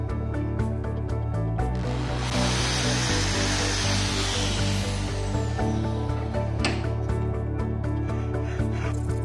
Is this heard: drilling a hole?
yes